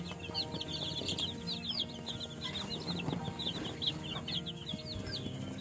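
Young chicks one to two weeks old in a brooding pen cheep continuously in a dense, overlapping high-pitched chorus, with occasional low clucks and wing flaps beneath, steady and close.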